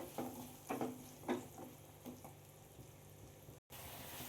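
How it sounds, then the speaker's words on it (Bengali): Potatoes and boiled chickpeas stir-fry with spices in a pan, giving a soft background sizzle broken by several quick scraping and stirring clatters, fairly quiet overall. "দিয়ে আমি ভালো করে 4-5 মিনিটের মতো আলু আর ছোলাকে মশলার সাথে কষিয়ে নেব।"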